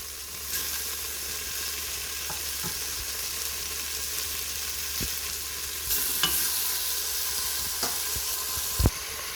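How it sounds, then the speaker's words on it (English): Turkey neck pieces for a Jamaican curry sizzle steadily in a pot, a continuous frying hiss with occasional sharp pops and clacks of stirring, close and fairly loud, no voices. "we're going to toss in some new pieces in our pot"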